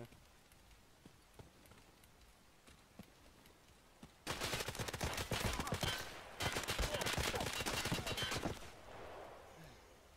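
Gunfire in the shooter game Escape From Tarkov, where two long, sharp bursts of rapid automatic fire crackle loudly one after the other after a quiet stretch, then fade out.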